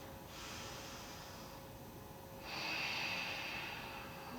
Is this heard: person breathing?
yes